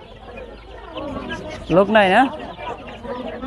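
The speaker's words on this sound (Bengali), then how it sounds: "এই হচ্ছে মুরগির বাজারের অবস্থা।" Chickens cluck at a busy poultry market at the Hemayetpur bird market in Savar, one loud rising call standing out midway above steady background chatter while people talk nearby.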